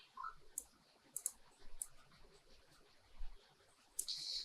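Computer mouse clicks during photo editing work, a few faint, sharp taps spread through a quiet room, including close pairs like double clicks, with no talking.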